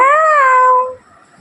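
A single drawn-out meow, loud and close, falls slightly in pitch and fades out after about a second into near silence.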